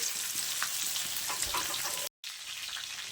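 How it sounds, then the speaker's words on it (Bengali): Katla fish pieces fry in hot oil over a high flame, giving a loud, constant crackling sizzle that briefly cuts out to silence near the end. "হাই ফ্লেমে ভেজে নেবো মাছগুলো"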